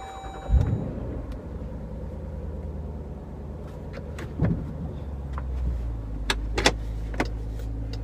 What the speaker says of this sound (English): Today we're going for a quick drive in the new 2017 Jeep Grand Cherokee